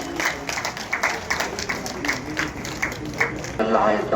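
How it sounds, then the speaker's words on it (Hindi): Dense clapping from a crowd at a pensioners' Holi gathering, steady and fairly loud, with voices mixed in underneath throughout. "आप तालियां बजाओगे"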